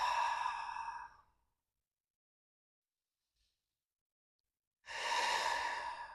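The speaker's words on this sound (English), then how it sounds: "Deep breath in and out." A slow, deep breath during a yoga session: a long, loud, airy exhale, a near-silent pause, then another full breath. Close and alone, with no talking.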